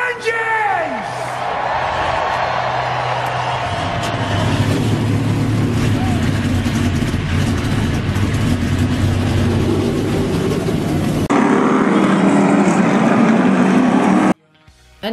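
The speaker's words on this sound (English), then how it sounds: "Drivers, start your engines!" Stop-motion NASCAR race cars fire up and roar at a San Diego California 500 start, engines building into a sustained loud, layered rumble under a voice on a public address, lasting many seconds before cutting off abruptly.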